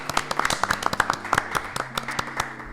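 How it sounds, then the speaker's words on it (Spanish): Podcast audience clapping in a room, a burst of distinct claps that tapers off over a few seconds, fairly close with some tonal hum beneath. "me encantaría escuchar un aplauso"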